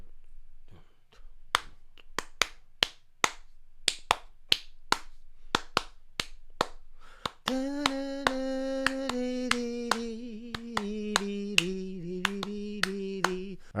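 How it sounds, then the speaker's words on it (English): Bare hands clap out the syncopated habanera rhythm in crisp, close, repeating sharp claps, first alone and then over a sustained piano melody. "I just want to clap this rhythm out for you and see if you can recognize it"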